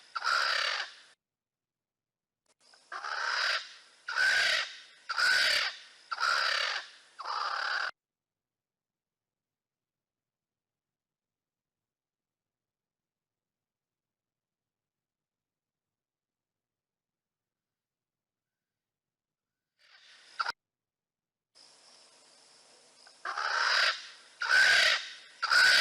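Swainson's spurfowl giving its harsh alarm call in the African bush, a loud rasping series of about four grating calls, then a long silence before another burst of repeated raucous calls.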